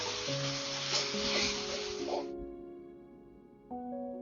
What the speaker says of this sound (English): I'm just going to give it a stir and then cook this for about 8 to 10 minutes or until it is no longer pink